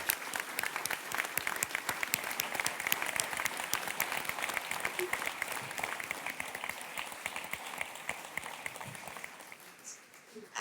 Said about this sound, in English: Please join me in giving a round of applause to Nicola,